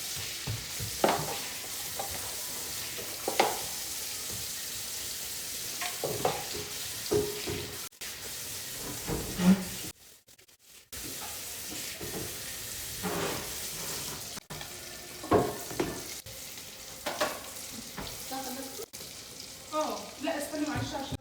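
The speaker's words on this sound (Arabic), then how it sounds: "البصله بقى كل ما تتحمر بتديك طعم حلو للرز." Onions fry in a pan as rice is prepared, giving a soft, continuous sizzle with scattered stirring clatters and a brief break midway, while a person talks intermittently nearby.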